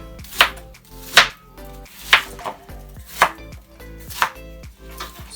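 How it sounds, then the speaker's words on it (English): A knife chops a white onion on a cutting board in a steady series of sharp, close knocks, roughly one every second, with no voices. "I'm gonna chop up this"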